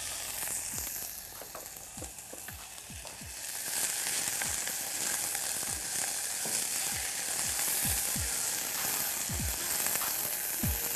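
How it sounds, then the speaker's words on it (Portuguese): Chopped onion sautés in a hot pan as the base of a barbecue sauce for ribs, giving a steady close sizzle with repeated sharp utensil scrapes and taps; the sizzle swells louder partway through. "A gente vai começar então refogando a cebola."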